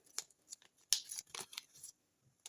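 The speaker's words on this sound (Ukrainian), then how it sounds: "Відкриваю найбільший пакетик." Crisp crinkling and tearing of a paper packet, in short uneven bursts close up, with one sharp rip in the middle.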